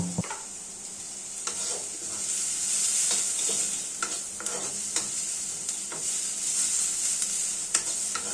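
Ingredients for a pointed gourd mash fry with a little salt in a pan, a steady hiss of sizzling oil punctuated by repeated clicks and scrapes of stirring, close and without speech.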